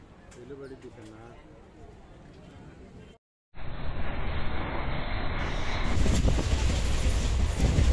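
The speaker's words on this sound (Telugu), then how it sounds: "ట్రైన్ అయితే ఎక్కేసానండి" A passenger train between Ongole and Chennai heard from inside. Murmuring voices and birdlike calls are followed by a brief silence, then a loud, steady, broadband rumble and rush of the carriage rolling on the rails.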